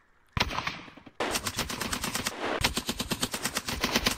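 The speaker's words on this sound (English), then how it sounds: "lay down suppressive fire" Sustained bursts of suppressive automatic gunfire, rapid loud rounds in long strings with brief breaks between volleys, close and dense with no talk over it.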